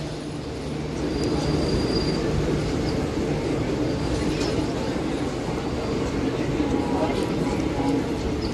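A MEMU passenger train between Kakinada and Visakhapatnam rolls along with a steady, loud rumble and faint wheel squeal, heard from on board as a continuous drone.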